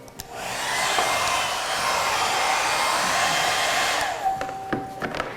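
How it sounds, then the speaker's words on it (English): A household hairdryer drying a layer of paint runs with a steady, close whoosh for about four seconds. It is preceded and followed by light clicks and handling sounds, with no talk. "So when I use a hairdryer"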